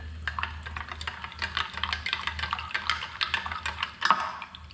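Red jelly and gelatin powder are stirred into hot water with a spoon, making irregular clinks and small sloshes in a quick, uneven rhythm at close range.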